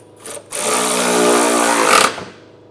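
A power tool drives 13 mm exhaust hanger bolts while a Curt trailer hitch receiver is mounted on a 2024 Toyota Camry, giving one loud, close whirring burst of about a second and a half.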